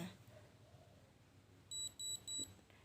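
A Galvanic Spa skin-care device beeping after its button is pressed: three short, evenly spaced high-pitched beeps, clear but fairly quiet over a faint room background.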